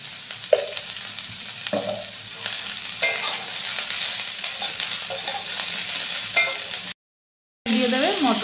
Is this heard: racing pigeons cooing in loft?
no